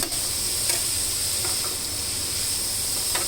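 Mixed beans, broccoli, capsicum, carrot and onion fry in a pan with a steady, close sizzling hiss, broken by a few soft stirring clinks.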